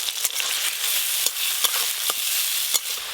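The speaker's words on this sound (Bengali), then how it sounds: "আজকে খিচুড়ি রান্নার জন্য তেজপাতা, শুকনো লঙ্কা আর গোটা গরম মশলা একসঙ্গে ফোড়ন করে নেব" Bay leaves, dried red chillies, whole garam masala and chopped tomato sizzle in mustard oil for khichuri, a bright continuous hiss punctuated by several sharp spoon taps and scrapes, with no talking.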